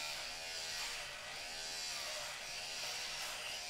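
Electric hair clippers buzz steadily and close up while a head is shaved bald, a continuous bright motor whine with slight wavering pitch as the blades move through long hair.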